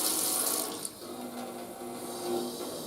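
A kitchen tap lets hot water out in a slow dribble into a sink during baking-sheet cleaning, a faint steady trickle after a brief brighter splash at the start.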